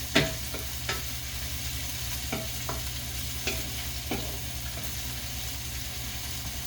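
Onions fry in a pan on a stove at medium heat, a soft constant sizzle punctuated by about a dozen sharp spatula taps and scrapes at irregular intervals, close by and without speech.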